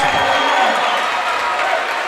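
Student section crowd at a high school boys basketball game clapping and cheering: a loud, continuous wash of applause and crowd noise in a gym, with voices mixed in.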